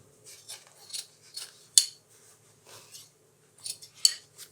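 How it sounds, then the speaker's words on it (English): Scissors snip fur from the sewn edge of a mitten, a series of quiet, close, crisp cuts with short pauses between them. "just cut any little bits of fur that's sort of hanging off the edge"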